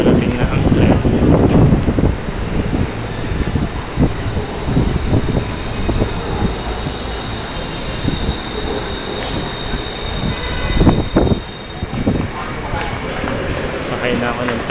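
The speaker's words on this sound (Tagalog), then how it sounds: "Parating na ang tren." A train pulls into a station in Bangkok with steady rolling rumble and wheel noise, a faint high squeal and some wind buffeting, while people talk nearby.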